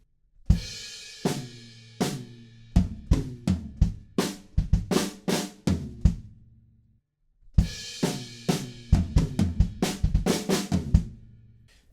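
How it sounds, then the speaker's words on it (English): Full drum kit playing the bridge of a song, steady kick, snare and cymbal hits closing in a fill, with a short pause before the pattern resumes; loud, close and without talk. "Now the last two bars of the bridge change a little bit just because we have a fill at the end"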